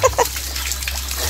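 Water from a hand-pumped well on an island splashes in two quick bursts at the start, followed by a low, steady trickle and a faint background hum.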